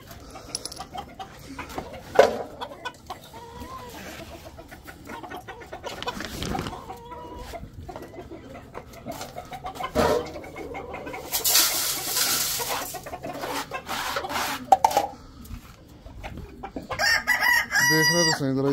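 Desi chickens cluck around a backyard cage while a rooster crows loudly partway through, with scattered bird calls, rustling and a person speaking now and then.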